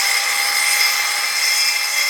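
A saw cutting steadily through material as an industrial sound effect, a continuous bright, hissing rasp held at an even, loud level for about two seconds with no pauses or voices.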